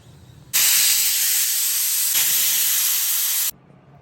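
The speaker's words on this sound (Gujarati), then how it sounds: "કુકરમાં 2 વિસલ વાગી" Pressure cooker whistle venting steam while cooking a Kathiyawadi vegetable dish of valor beans, brinjal and potatoes; one loud, steady hissing blast lasting about three seconds, close by, then it stops abruptly.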